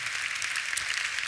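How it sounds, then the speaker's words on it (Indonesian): Church congregation applauding during a sermon, a brief steady wash of many hands clapping at moderate loudness. "Beri tepuk tangan sekali lagi untuk Tuhan kita."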